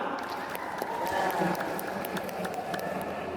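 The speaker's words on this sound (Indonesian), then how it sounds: "berikan aplaus untuk semua" Applause from the audience at a girls' Quran understanding competition final in Kutai Kartanegara, a steady crowd clapping that runs the whole time at moderate loudness.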